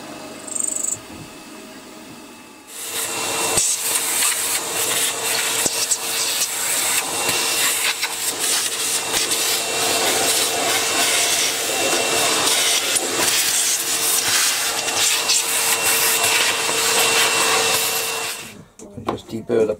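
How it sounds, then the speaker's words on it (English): A milled pocket on a metal part for an X-axis power feed is deburred with a hand tool, giving a close, continuous scraping and rasping hiss. It lasts for about fifteen seconds and then stops abruptly. "I just deburred the pocket."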